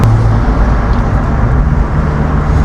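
BMW Z3 2.8 sports car engine on a test drive, a steady low droning rumble with road noise throughout, no talking.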